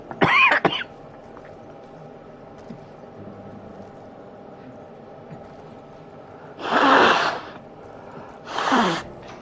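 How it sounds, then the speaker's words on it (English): A sharp cough at the start, then quiet, followed by two more harsh coughs with throat clearing near the end, close to the microphone. "I apologize if you hear coughing, sniffling, throat clearing"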